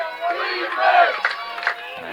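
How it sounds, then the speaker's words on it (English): Crowd at a Cal men's college lacrosse game against Cal Poly shouting and cheering for their defense, a blended roar of voices rising and falling, with a commentator's voice over it. "Cal crowd desperately exhorting their defense on"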